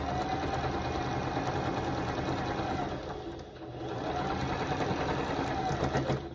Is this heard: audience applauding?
no